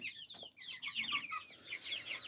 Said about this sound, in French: il y a un coq noir